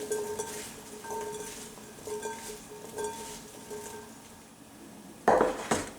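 Vegetables are tossed with oil, salt and black pepper in a bowl, producing soft clinking and rattling of utensils against dishware in an uneven rhythm, with a louder clatter near the end, close by.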